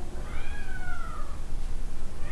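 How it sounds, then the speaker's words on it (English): A young buff domestic shorthair cat gives a single drawn-out meow close by, rising then falling, over a noisy indoor background with no talking. "She's a beautiful buff female cat, domestic short hair."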